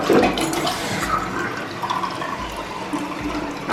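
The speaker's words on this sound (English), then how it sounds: "This is filling up just to make sure everything flushes" A toilet in a newly renovated bathroom flushes with a steady rushing, gurgling wash of water that continues as the tank refills, fairly loud and close, with no talking.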